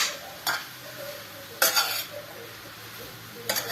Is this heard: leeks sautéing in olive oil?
yes